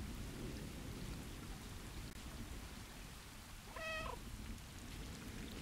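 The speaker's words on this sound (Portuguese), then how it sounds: "Tá chovendo muito." Heavy rain pours steadily in the Stray video game, a dense broadband wash that holds even and close throughout, with a brief tonal cry, likely a cat meowing, rising out of it midway.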